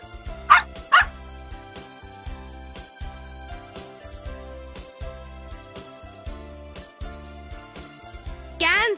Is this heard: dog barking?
yes